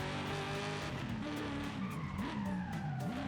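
A Dodge Magnum SRT-8 with upgraded suspension brakes hard from high speed, tires squealing loudly with a rising and falling screech over engine and road roar until it slows to a stop.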